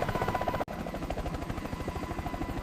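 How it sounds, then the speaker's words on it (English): A helicopter lifts off into the morning air, its rotors chopping in a loud, fast, steady pulse with a turbine whine, close and continuous, broken by one brief dropout. "The helicopter lifts with a sharp bank nose, dipping as it fights into the morning air now."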